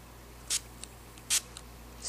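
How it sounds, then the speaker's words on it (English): Three short, sharp hisses from a catnip spray bottle, evenly spaced, close by in a quiet room with a faint background hum. "Spray it a couple times."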